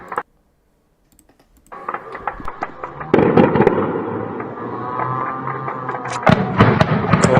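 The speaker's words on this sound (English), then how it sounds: "Третий раз на том же месте взрывается." Explosions in Odessa during a drone attack, a sudden loud blast after near silence, followed by a sustained roar and scattered crackling bangs, recorded from a distance outdoors.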